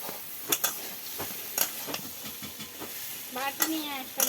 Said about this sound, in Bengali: বুট ভাজি হচ্ছে আজকে